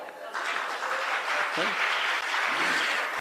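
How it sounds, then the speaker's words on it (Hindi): Applause rises from the crowd at a Hindi comedy poetry recital, a steady clapping wash that swells after a brief opening, with some talk mixed in. "एक बार इस महापुरुष के सम्मान में ताली बजाओ।"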